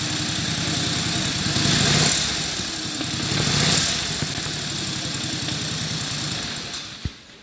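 A vintage motorcycle engine idles steadily after being choked, a loud close rumbling putter that swells and eases slightly, ending with a sharp click.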